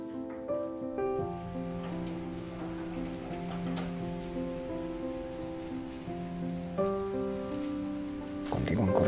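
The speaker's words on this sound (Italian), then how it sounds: "Continua ancora a piovere fortissimo." Heavy rain pours on the wooden roof of a hostel along the Portuguese Camino, a steady, dense hiss that runs throughout with sustained tonal hums layered over it.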